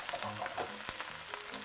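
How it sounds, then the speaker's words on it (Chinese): Celery stir-frying in a wok for Sichuan boiled fish slices, a steady close sizzle with scraping stir strokes and a sharp clack partway through, no voices. "好，我们现在就给它炒一炒。"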